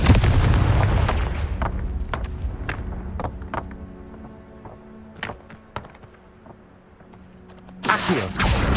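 A Confringo blasting curse going off in Hogwarts Legacy, a loud burst at the start followed by scattered thuds and cracks, a quieter stretch, then another heavy rumbling blast near the end.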